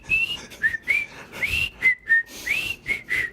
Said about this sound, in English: Can we do the whistle sometime?